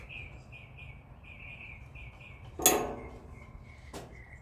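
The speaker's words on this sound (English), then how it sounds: "Boy, I sure wish them birds would shut up." Small birds chirp outdoors in a repeated, even rhythm of short high calls, soft and somewhat distant, while someone works on the carburetor of a Speedex 1630 garden tractor. Two sharp metallic clanks from the work break in partway through.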